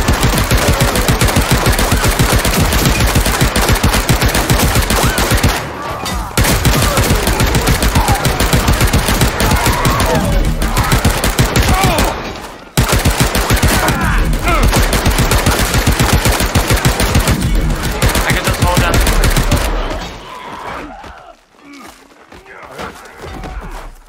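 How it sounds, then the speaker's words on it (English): A submachine gun firing in the game Paint the Town Red, with loud, sustained rapid bursts broken by two short pauses, before the shooting cuts off near the end. "I like this submachine gun."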